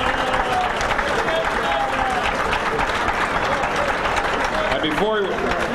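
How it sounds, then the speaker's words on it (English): Sustained applause from a banquet crowd honoring inductees at a Pennsylvania Sports Hall of Fame dinner, dense continuous clapping at steady loudness throughout, with faint voices and whistles mixed in. "How about one last big round of applause for our 12 inductees?"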